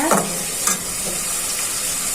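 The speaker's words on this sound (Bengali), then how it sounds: "চিংড়িগুলো ভাজা হয়ে যায়, সাথে লবণ ছিটিয়ে দিচ্ছি।" Tiger prawns frying in a pan, a brief, close, steady sizzle with a couple of light stirring scrapes.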